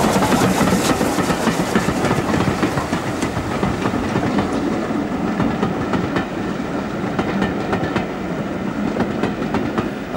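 Preserved Midland Railway number 1000 locomotive runs along the Birmingham–Bristol main line on a rail tour, a loud continuous rumble with rhythmic clickety-clack of wheels over rail joints, and no voices.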